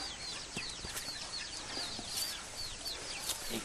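Chickens clucking in a Vietnamese village, with soft overlapping calls and chirps scattered steadily over a low ambient bed, moderately near and without talk.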